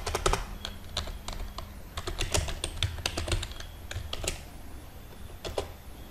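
Someone types a question into Microsoft Word on a computer keyboard, an irregular run of crisp, close key clicks with short pauses and bursts.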